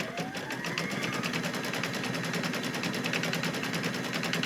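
An embroidery machine stitches the quilting on a mug rug in the hoop, a loud, close, rapid mechanical rattle of the needle running continuously at an even pace, with a faint whirring motor underneath.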